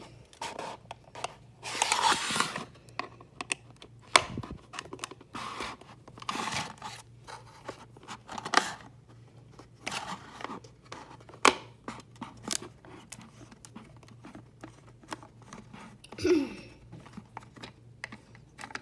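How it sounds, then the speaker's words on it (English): Screwdriver working screws loose to free a toy Lamborghini from its packaging, with faint scattered clicks, scrapes and plastic rustles close by in a quiet room. "Just give me a moment to unscrew this."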